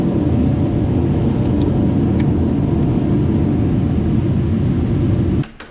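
Case skid loader engine idling close by. A loud, steady, rumbling drone holds for about five seconds and then drops off abruptly near the end.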